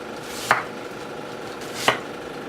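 Two sharp knife cuts through an onion held in a claw grip, spaced about a second and a half apart, close and crisp against quiet room background, no voices.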